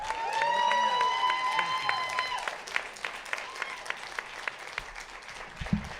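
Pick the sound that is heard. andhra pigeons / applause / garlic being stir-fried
applause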